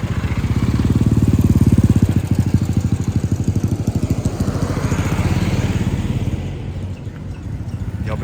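A motorcycle engine drones loud and close while riding along a highway, its steady pulsing rumble dipping slightly toward the end, with no talking.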